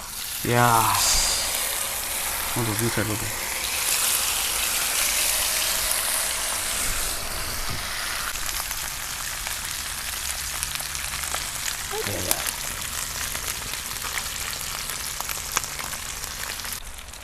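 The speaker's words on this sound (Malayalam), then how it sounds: "തിളച്ച് നിൽക്കുന്ന എണ്ണയിലേക്ക് മീൻ ഇട്ട് കൊടുക്കുക." Fish dropped into hot olive oil, with a loud hiss as the pieces hit the pan, then a steady, dense sizzle that continues for a long stretch, close up, with occasional clatter and no clear speech.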